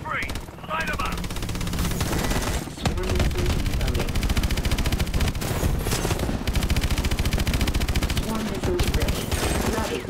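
Rapid automatic gunfire rattles continuously and loudly in Call of Duty: Advanced Warfare, a dense barrage of overlapping shots with a brief break near the start.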